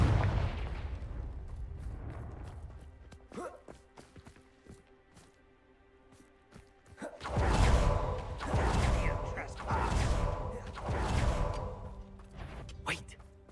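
Confringo explosive spell blasts in the Hogwarts Legacy video game, with sharp percussive cracks early giving way to a run of loud rumbling explosions and whooshes in the second half, voices speaking in between.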